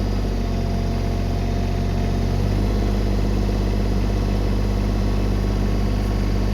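A machine engine holds a steady idle-to-mid throttle near 1900 RPM, with the pedal pressed slightly; a continuous loud, even drone with strong low hum, close and unbroken, no talk.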